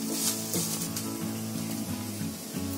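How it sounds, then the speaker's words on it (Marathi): Onion frying in a pan over low gas, a steady close sizzle with occasional stirring scrapes and no voices. "आता आपला कांदा सगळं फ्राय झालाय चांगला"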